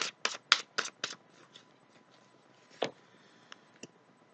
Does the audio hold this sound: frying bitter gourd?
no